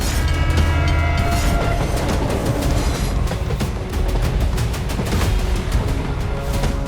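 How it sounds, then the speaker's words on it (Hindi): Kim Jong Un's special train rolls into Vladivostok, its heavy wheels rumbling and clattering over rails in a loud, continuous roar with repeated metallic clicks. "किम जोंग की विशेष ट्रेन व्लादिवोस्तोक पहुंच चुकी है।"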